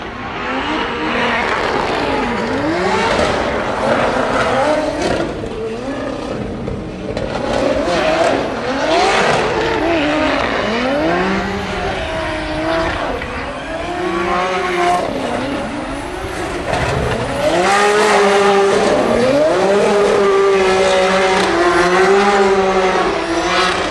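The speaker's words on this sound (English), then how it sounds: "Rintanen is warming up tires" Drift car warming up its tires at the DMGP Ireland drifting event, with repeated loud engine revs rising and falling, tire squeal and skidding throughout, and a commentator talking over it.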